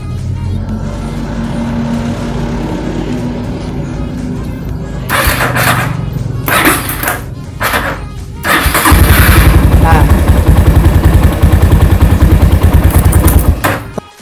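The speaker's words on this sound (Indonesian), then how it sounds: "Kita coba langsungkan dari aki menuju ke starter seperti ini teman-teman ya" Motorcycle electric starter wired directly from the battery, cranking in a few bursts before the engine catches and settles into a loud, steady close-up idle rumble.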